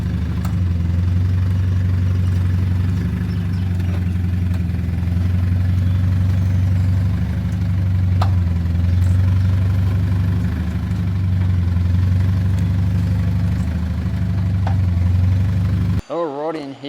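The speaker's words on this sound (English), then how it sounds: "What I mean by the clunking problem is I'll just show you this little clip here of what the common issue is with the" Mitsubishi Pajero with a common clunking, knocking fault, its engine idling steadily and loudly up close for most of the run, with faint irregular knocks in the low rumble before it cuts off abruptly near the end.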